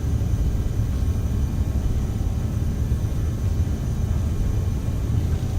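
Aerosoft CRJ-900 jet engines at takeoff thrust in Microsoft Flight Simulator during a departure from Toronto, a steady loud low roar and rumble with a faint hiss, unbroken for the whole clip.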